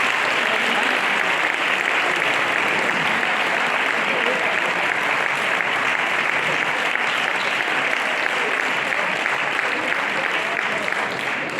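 A church audience keeps up steady, dense applause at even loudness for about twelve seconds. Crowd murmur sits faintly beneath it.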